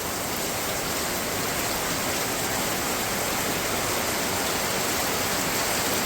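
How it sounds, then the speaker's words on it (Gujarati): Heavy monsoon rain pounds tin roof sheets in a continuous, dense, even roar with no break or voices throughout. "આ પતરા ઉપર છે એનો અવાજ કેટલો આવે છે વરસાદનો"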